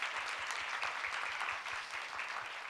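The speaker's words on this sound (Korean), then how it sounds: "여러분 다시 한번 격려의 박수 부탁드리겠습니다" Applause from a conference audience at the close of a session, a steady patter of many hands clapping in a hall, fairly soft and continuous for a few seconds with no talk.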